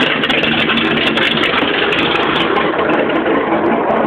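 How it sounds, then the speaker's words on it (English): A car engine with a lumpy cam and Holley 4-barrel carburetor, fitted in a Datsun Z-series car, running loud and close with a continuous choppy, uneven idle throughout. "Very lumpy cam in this thing."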